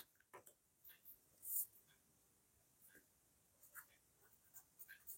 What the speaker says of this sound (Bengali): দেখো, আমি তোমাদেরকে লিখে দেখাচ্ছি।